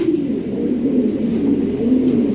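European Lahori pigeons in breeding mode coo in a close, steady series of low throaty calls, rolling on continuously without a break.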